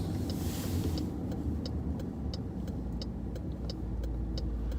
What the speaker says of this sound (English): let's go see what that car was that just went by here